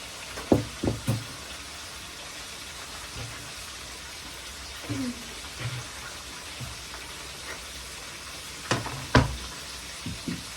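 Whole eggplant fries in a pan, a soft steady sizzle running underneath scattered knocks and clatters of cookware, some close and loud, spaced irregularly across the clip.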